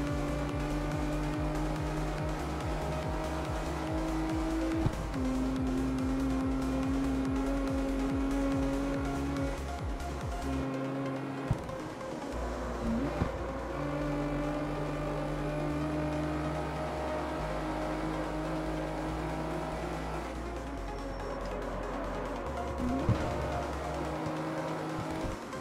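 An all-wheel-drive 32R car in CarX Street roars along at speed, engine pitch climbing and dropping through gear changes with occasional tire squeal, loud and continuous with no talk.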